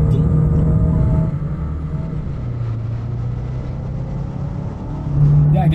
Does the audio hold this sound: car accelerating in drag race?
yes